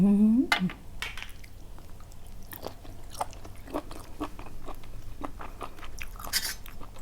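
Crunchy spicy Thai squid salad being bitten and chewed close to the mic, repeated crisp crunches and wet squishy mouth sounds over steady background noise, with a brief voice at the start.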